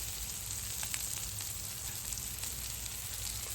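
Burger sliders frying on a hot griddle give a steady, dense sizzle throughout, close and even with faint crackles, no voices.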